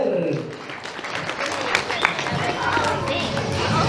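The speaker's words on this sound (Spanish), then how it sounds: "Vamos a recepcionar con fuerte los aplausos para José." Wedding guests at a reception in Jauja clap for the groom, a loose, steady crowd applause with some chatter and shuffling mixed in, moderately loud throughout.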